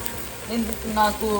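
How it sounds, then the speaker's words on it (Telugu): Chicken sizzling and frying with spices in a pan over a medium flame, a brief close crackle with a stir or two, while a voice talks over it. "మీడియం ఫ్లేమ్లో పెట్టుకొని చికెన్ని ఉడికించుకుంటాం కదా, అందులోనే మనం కావాల్సిన స్పైసెస్ అన్నీ వేసేసుకోవాలి."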